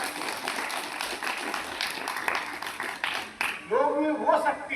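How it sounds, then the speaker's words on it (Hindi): An audience at an International Yoga Day program claps loudly and steadily, a dense wash of applause with voices rising over it near the end. "जोरदार ताली बजाए।"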